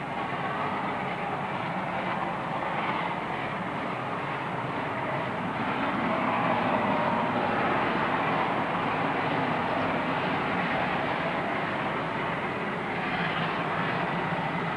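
A long, steady rumbling roar of a heavy steam train, a GM-AM Garratt double-headed with a Class 24 locomotive, passing at a distance, continuous and broad, with no talking.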